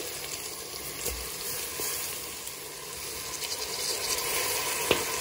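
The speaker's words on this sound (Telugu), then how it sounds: "ఇప్పుడు నానబెట్టుకున్న రైస్ని వాటర్ తీసేసి వేసుకోండి." Drained soaked rice tipped into a hot, sizzling pan for a wheat rava kichidi, giving a steady close frying hiss with a few brief clattering knocks and no voices.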